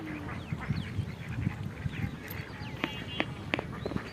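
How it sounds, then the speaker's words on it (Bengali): Domestic ducks from nearby houses quack repeatedly beside a fish pond on a farm. The scattered, overlapping calls sound moderately close over a busy outdoor background. "এই আশেপাশের বাড়ির হাঁস।"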